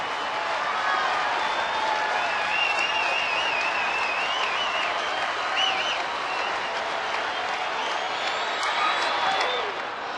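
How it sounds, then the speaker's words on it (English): A baseball stadium crowd cheers continuously at a Rockies home game in Colorado, a dense, sustained roar with clapping and whistles, while a broadcaster's voice is faintly heard beneath it. "That's still cheering."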